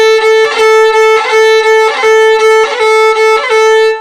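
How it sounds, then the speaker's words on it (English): Fiddle playing open-string rolls: a steady ringing open string with rapid ornamental grace-note flurries repeating in a bouncy rhythm, loud and close, alone with no talk. "There is such a thing as open string rolls. They sound like this."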